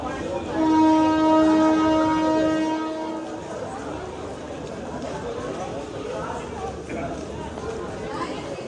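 A train horn blasts loudly with sustained tones, then fades into the rumble of a train departing a station on the Bhavnagar to Botad route, amid background crowd chatter.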